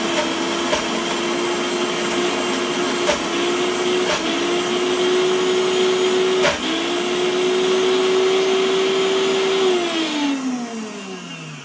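Countertop blender running on hummus with peas and sundried tomato, a loud continuous motor whine that shifts pitch several times as the contents catch, with a few knocks, then winding down at the end.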